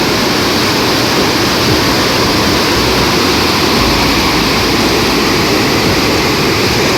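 Strong, steady rush of water pouring down from above in a dense forest stream at the foot of Prachitgad, a loud broadband roar filling the whole stretch without pause.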